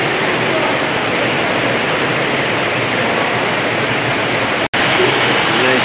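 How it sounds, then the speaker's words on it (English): A waterfall indoors at the Audubon Aquarium of the Americas in New Orleans roars as a steady, broad rush of water, loud and close, with one brief dropout near the end. "View of the waterfall."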